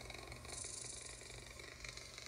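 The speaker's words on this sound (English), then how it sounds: "There's a cat purring." Soft, low, continuous rumbling purr of a cat, steady throughout with a faint hiss behind it.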